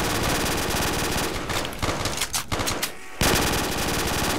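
A P90 fires nonstop in a modded zombies game, a loud dense stream of rapid shots that pauses briefly just before the three-second mark and then resumes.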